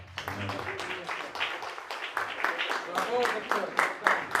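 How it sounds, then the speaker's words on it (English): A conference audience gives a round of applause for a doctor, many claps in a dense steady patter close by, with a voice speaking over the clapping. "Let's give a hand clap to Dr."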